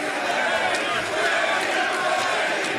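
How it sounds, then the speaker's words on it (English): Dense arena crowd at an AEW Dynamite professional wrestling event chanting for Eddie Guerrero, a loud, continuous wash of many voices with steady pulsing emphasis and no clear pauses. "A lot of fans in the crowd chanting for Eddie."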